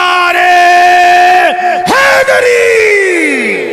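At a religious sermon gathering, a crowd bellows a unified answer to a called-out slogan, the long, loud chorus of voices dropping off briefly before rising again.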